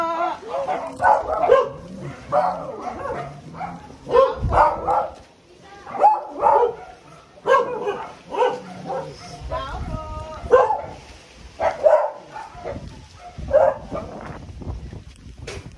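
A dog barks and yips repeatedly in short bursts, mixed with people talking nearby at a neighborhood rosary procession in the Philippines.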